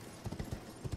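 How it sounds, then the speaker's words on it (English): Quiet, rhythmic clip-clop of horse hooves in the video game Elden Ring, a brisk trotting beat that repeats steadily over a low background. "I can ride my horse in here?"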